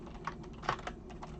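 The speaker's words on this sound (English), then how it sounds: "Failing at typing." A few quick, soft clicks of typing on a computer keyboard, irregular and close, with a slightly sharper keystroke near the middle and a quiet background.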